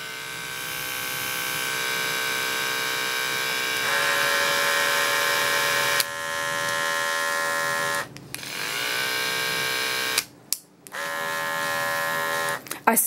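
An electric dog grooming clipper runs as a loud, steady close buzz that lasts several seconds. Its pitch shifts partway through and it cuts out briefly near the end, with no voices.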